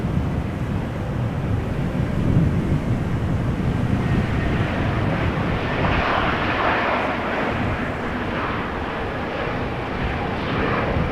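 An Aer Lingus jet in rugby livery rumbles at a distance, a moderate, steady engine drone with a low wind-like wash and no voices.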